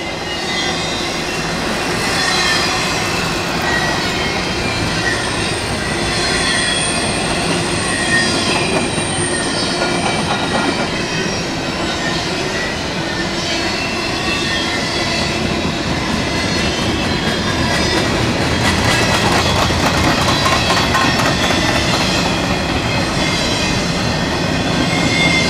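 A BNSF freight train rolls past up close, its wheels rumbling and clattering on the rails with some metallic squealing, loud and continuous throughout, no voices.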